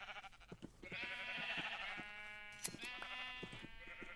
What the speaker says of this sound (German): Ich finde die Menge an Schafen schon okay.